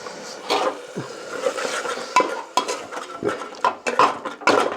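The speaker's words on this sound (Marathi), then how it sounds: "आता हे टोमॅटोची ग्रेव्ही टाकतोय" Tomato gravy added to a pan of fried onion, ginger and garlic paste for a spicy green bean dish: a series of clinks and scrapes of a spoon against the pan, with faint sizzling underneath and no talk.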